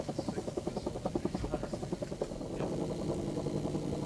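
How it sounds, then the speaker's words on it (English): A military helicopter patrols over a border combat area during the 2003 Iraq War, its rotor chopping in a steady rapid rhythm, then blurring into a smoother engine drone. "The chopper methodically roamed the border, picking out targets, launching"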